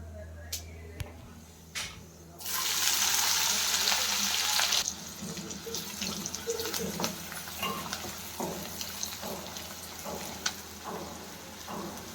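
Onions go into hot oil with cumin and burst into a loud, close sizzle that settles into steady frying with light stirring clicks.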